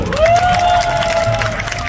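A street audience at an Indian-style magic busking show claps and cheers loudly and continuously after a trick, with a sustained raised voice carrying over the dense crowd noise.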